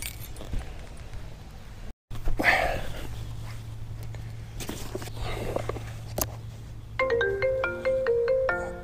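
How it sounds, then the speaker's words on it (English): A phone ringtone chimes in a repeating melodic pattern near the end, preceded by footsteps and handling noise beside a pond during fishing, with a steady low hum underneath. "What would a video of mine be without the phone ringing?"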